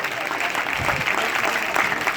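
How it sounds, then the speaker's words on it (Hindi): Loud, steady applause from students and onlookers at a gurukul exercise demonstration in Hisar, Haryana, a dense wash of clapping that carries evenly through the moment with a few louder swells. "जोरदार तालियां"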